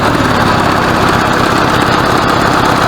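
The engine of a 1986 Honda Goldwing GL1200 SE-i motorcycle, which has a small exhaust leak, runs close and loud in a steady, even drone with no talking.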